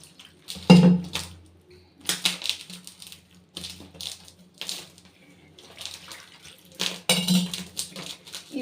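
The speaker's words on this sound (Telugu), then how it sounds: "దోశ బ్యాటర్ లూజ్గా ఉండిద్ది కదా," Loose dosa batter stirred by hand in a bowl, a run of wet sloshing strokes with occasional clinks against the bowl, close and uneven in rhythm.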